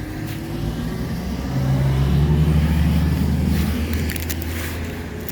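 A 2006 Mercedes E320 CDI diesel idles and then revs gently as it is driven onto a trailer, a low rumbling engine that swells midway and settles again, close and steady with no talk.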